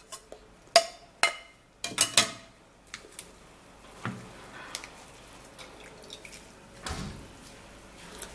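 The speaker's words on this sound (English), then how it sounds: "You're going to press it to extract the juice." Cucumber juice drips and splashes in a series of sharp, close drops, several quick ones early then sparser, softer drips trailing off over quiet background.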